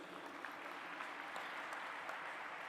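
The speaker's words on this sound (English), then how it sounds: "Let's give a loud applause for Dr. Lawrence, sir." Audience applause at an interfaith summit, a steady dense patter of many hands clapping, moderately distant and even throughout, with no speech over it.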